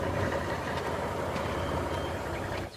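A truck reversing sounds a steady run of warning beeps over a loud engine rumble, and the noise drops off sharply at the very end.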